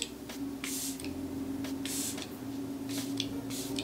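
Ultra-fine facial mist spritzed during a skincare and makeup routine: several short, soft hissing puffs in quick bursts, close to the mic and fairly quiet over a low background hum.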